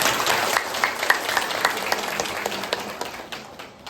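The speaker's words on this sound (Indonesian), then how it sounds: "Ini harus kita kasih apresiasi untuk dia tepuk tangan." Audience applause for the school principal at a school rules meeting at SD Negeri 1 Pendowo Asri: a steady, fairly close burst of many hands clapping that slowly thins out over a few seconds.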